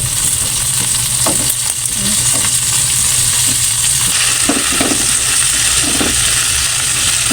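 Eggplant sizzling steadily in a pan with garlic and onion while being stirred, with a continuous loud hiss and a few soft scraping strokes scattered across the clip.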